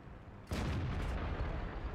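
A tank gun in World of Tanks fires with one sudden loud blast, followed by a rumbling, crackling impact as the shell strikes dirt, the noise sustained and heavy to the end.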